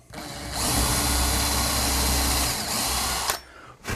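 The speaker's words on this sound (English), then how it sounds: "I just mark them like that and drill them freehand." A power drill bores holes freehand into a cabinet for drawer slides, whining steadily and loudly for about three seconds before stopping, followed by a brief knock.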